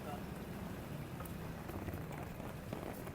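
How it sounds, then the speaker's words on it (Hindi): Rain falls steadily during a flood in a Pakistani city, a dense, even hiss with scattered drop impacts, and voices talking faintly underneath. "बारिश ऊपर से गिर रही है"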